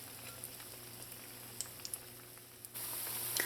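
Saheena fritters frying in hot oil, a faint steady sizzle with scattered small pops and crackles, growing slightly louder and more hissing toward the end, close but quiet with no talking.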